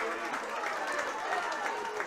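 Applause and cheering from a camogie club championship crowd as the players head in at half-time, steady and moderately distant, with a commentator talking over it throughout.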